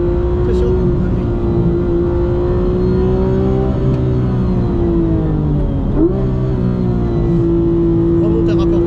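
Porsche race car accelerating hard on a track, a loud steady engine drone with rising harmonics and a gear shift near the middle, recorded close from onboard.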